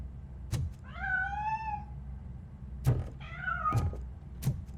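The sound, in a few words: cat meowing, from RoboCop: Rogue City video game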